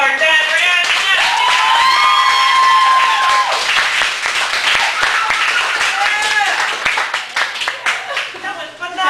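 Loud audience applause with cheering voices filling a hall after a performance, dense clapping sustained throughout and thinning toward the end, with a voice speaking over it.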